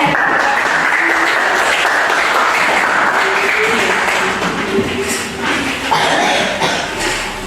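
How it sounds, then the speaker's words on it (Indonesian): A classroom of students claps in sustained applause, a dense, loud patter that continues throughout with some murmuring and light chatter mixed in. "Berikan aplaus untuk Wildan."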